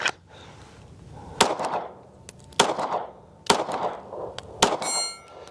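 Four loud, sharp pistol shots from a CZ 75 SP-01 Tactical firing 147 grain subsonic rounds, spaced about a second apart, each with a ringing clang and brief echo, outdoors and close.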